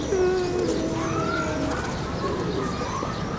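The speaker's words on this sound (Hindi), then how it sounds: "ये वाले कबूतर है जी" Pigeons coo with a steady, close, rolling call over constant bird chatter, a pair of breeding birds among a loft flock.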